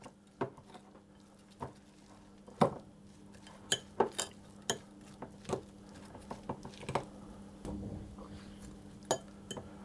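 A spoon mixes olive oil in a bowl for a red lentil, spinach and feta bake, making a string of clinks and taps against the bowl at an irregular pace, close and fairly quiet.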